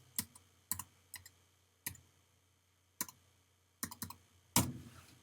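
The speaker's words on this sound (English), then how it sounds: "Let's type it in right now." Short bursts of keyboard clicking come in irregular clusters, with quiet pauses between them, ending in a louder, heavier clatter of keys.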